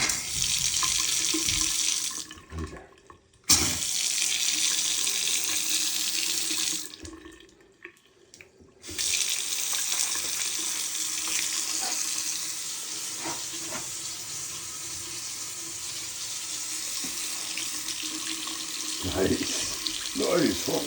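Water runs steadily from a newly installed sink faucet under a vanity, a strong continuous hiss that cuts out twice briefly and then resumes, with a few knocks and handling sounds mixed in.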